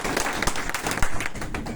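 Applause from a crowd at a network marketing meeting in Naugachia, Bhagalpur, a dense, steady wash of clapping lasting throughout with a few sharper claps standing out.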